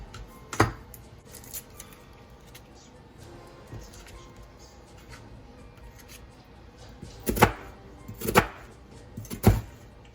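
An onion for chili is chopped on a board, giving a single knife strike early on, a quiet stretch with soft handling noises, then three sharp, close chops in quick succession near the end.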